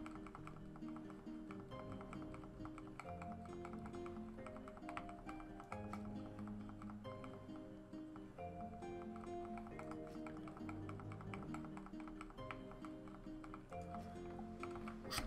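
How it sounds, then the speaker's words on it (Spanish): A computer keyboard's number 2 key pressed over and over during an Albion Online fishing session, faint, quick clicks and taps under steady background music, with no talk. "También el botón 2 del teclado lo estoy quemando, ¿eh? Lo estáis escuchando en el vídeo a muerte"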